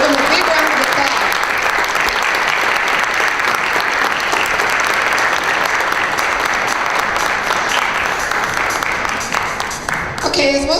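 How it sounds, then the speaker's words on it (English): A pageant audience gives loud, dense, sustained applause, filling nearly the entire stretch before thinning out briefly near the end, with no voices on top. "Give them a big round of applause."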